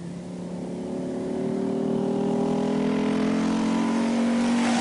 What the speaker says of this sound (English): Franz Wittmann has a 10-minute lead in Group A, and not surprising, judging by the slow speed of this Audi 80 Quattro